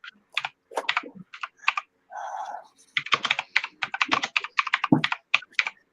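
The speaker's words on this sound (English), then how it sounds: "I was typing." Rapid typing on a computer keyboard, close and crisp, with bursts of clattering keystrokes separated by short pauses and one longer press in the middle.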